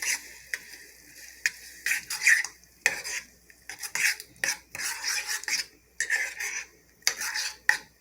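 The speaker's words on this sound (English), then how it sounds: "Stir that up." A spoon stirs baked beans mixed with ketchup and brown sugar in a pot, giving close, intermittent scraping and clinking strokes in short irregular bursts with quiet gaps between them.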